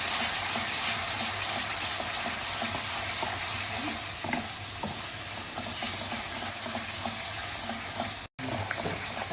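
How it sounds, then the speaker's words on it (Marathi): Onion-garlic masala for mutton curry fries and sizzles steadily in oil while a spoon stirs and scrapes through it, a constant close crackle with irregular scraping strokes and a brief break near the end. "आता हे चांगलं भाजतंय"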